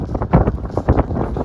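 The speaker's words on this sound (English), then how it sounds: "Oh, windy, windy, windy." Wind gusts buffet a microphone beside river piers and boats in Veliky Novgorod in winter, giving a steady, rough, close rumble that swells and dips, with no talking.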